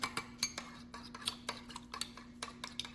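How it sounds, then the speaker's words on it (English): Utensil scraping and clinking in a pan while stir-fry is mixed with a cornstarch slurry, a run of quick, light metallic taps and scrapes close by, with a steady low hum underneath. "So I wanna mix this really well. Make sure all of it gets stirred up well."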